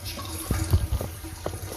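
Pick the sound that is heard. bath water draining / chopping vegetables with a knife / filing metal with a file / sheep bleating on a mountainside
bath water draining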